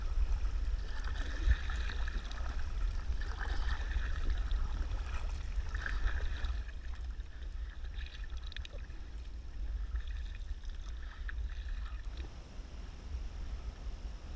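Water swishes and gurgles steadily as an Aldi inflatable kayak is paddled with small blades, with rhythmic splashing strokes over a low rumbling background.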